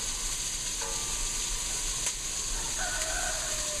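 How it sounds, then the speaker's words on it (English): Constant crackling sizzle of aromatic vegetables sweating in a hot pan for stew, with a faint high whine and a rooster-like call briefly in the background. "I'm going to let these sizzle and sweat a little bit"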